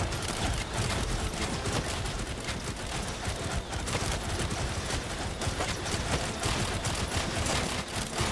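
Turrets firing in a video game, a dense continuous barrage of rapid gunfire bursts, loud and close, layered with chaotic combat noise and no talk.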